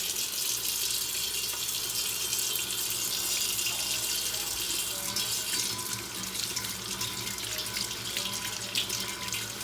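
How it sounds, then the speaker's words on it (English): An item is washed with hand soap under a running kitchen sink faucet, a steady splashing stream that keeps going throughout, close by and with no voices. "So let's go over to the sink and wash it. And I'm gonna squirt some hand soap on there."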